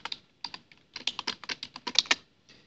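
Close, crisp keystrokes on a computer keyboard while entering Python code, a quick irregular run of clicks with short pauses between bursts and no talking.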